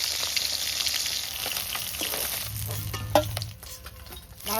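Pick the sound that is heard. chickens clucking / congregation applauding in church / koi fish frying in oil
koi fish frying in oil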